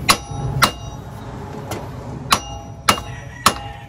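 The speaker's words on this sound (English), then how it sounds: "It's made to hit with a hammer. Just give it a couple taps." A hammer tapping the CV axle shaft on a Dodge Ram 1500 front end, five sharp, ringing metallic strikes, close and spaced irregularly.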